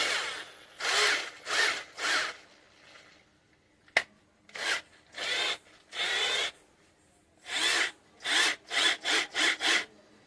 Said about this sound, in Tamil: ட்ரில்லிங் மிஷின் வந்து ஒர்க் ஆகுது